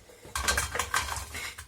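Tofu set back into a hot frying pan while cooking vegan tofu, with a series of close metallic clinks and knocks against the pan over under two seconds, and no talking.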